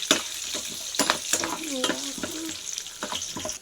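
Half a cup of peanuts frying and being stirred in a pan while making Rayalaseema-style uggani, a steady close sizzle broken by scraping stir strokes, with a person talking over it.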